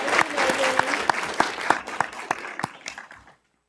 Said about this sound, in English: We can all give Ms. Sladen a round of applause.